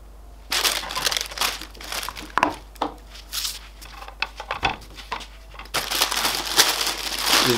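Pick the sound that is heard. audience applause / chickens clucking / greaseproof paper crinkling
greaseproof paper crinkling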